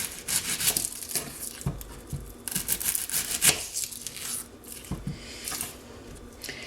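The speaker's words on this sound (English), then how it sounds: "I'm going to cut up an onion to fry the potatoes." A knife cuts up an onion on a cutting board for frying potatoes. Irregular scraping and crunching strokes sound close by, with no talk.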